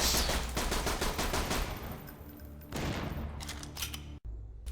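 Rapid bursts of Dominator pistol fire with homing bullets from Borderlands 2, loud and dense at first, then thinning into spaced shots with a brief gap near the end.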